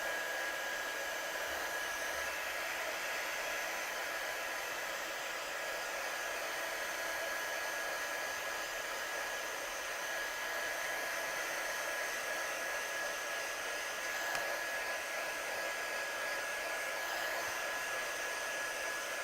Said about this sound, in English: Just going to give this a quick dry off before we die cut, just to make sure it doesn't smudge.